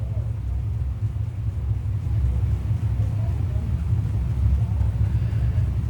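Crate sprint cars at Can-Am Speedway idling in formation behind the pace truck, a steady low engine rumble that holds at an even loudness throughout, with wind buffeting the microphone.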